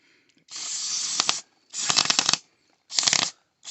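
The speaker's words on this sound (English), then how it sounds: "I'm going to spray through the needle, the jet" Three bursts of carburetor cleaner sprayed through the jet of an SSR 110 pit bike carburetor, hissing loudly at close range, the first about a second long and the next two shorter, separated by brief silences.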